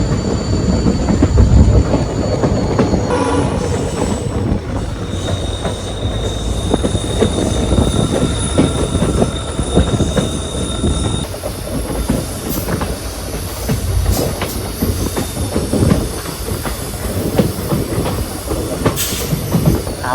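A train travels the 120-year-old Kollam to Aryankavu railway line in Kerala, with a steady rumble, rhythmic wheel clatter and occasional metallic squeal running loud and continuous throughout.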